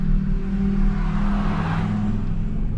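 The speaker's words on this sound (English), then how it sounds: "I want to get into some wide open throttle action, and right now is the perfect time for that" A car engine pulls hard under wide open throttle on a test drive, a steady loud droning growl that holds its pitch with road noise and whir throughout.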